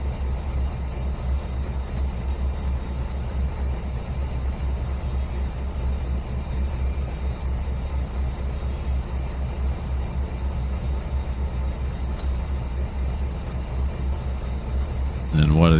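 A long freight train with wheat hoppers rolls by in the Trainz 2019 simulator, a continuous low rumble and rolling drone throughout, with a voice talking intermittently over it.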